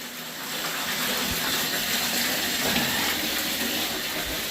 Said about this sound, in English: we're filling up the tub.